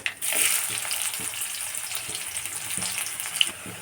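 Onions sizzle and fry steadily in hot oil in a pan with black cumin and bay leaves, a close continuous crackle with occasional soft stirring knocks, no voices.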